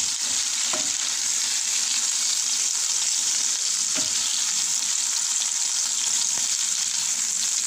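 Onions cooking in a covered pan give a constant dense sizzle and hiss, close and even, with a few faint knocks or stirs now and then.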